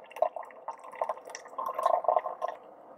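A Ninja Pods & Grounds single-serve coffee maker brews very hot coffee into a travel mug, with a close, steady trickle and irregular drips that grow slightly fuller toward the end.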